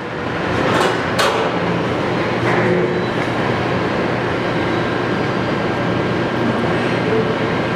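A Kingston HD 26x120 heavy lathe runs through its spindle speeds, a dense, steady mechanical whir and rumble with a couple of sharp clanks near the start.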